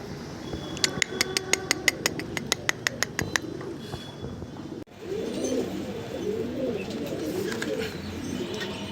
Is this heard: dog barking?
no